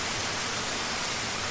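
Dense, steady hiss of heavy rain pouring continuously, broad and unbroken with no voices.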